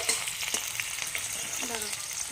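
Chopped onion dropped into hot oil with cumin seeds sizzles steadily, a bright hiss with faint crackles and a soft stir, close and continuous throughout.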